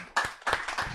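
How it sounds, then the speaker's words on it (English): Audience at a Mombasa creatives workshop clapping for a speaker, a short burst of hand claps in uneven rhythm, rising in two waves across a second, close and moderately loud with no talk. "Let's clap for him kindly"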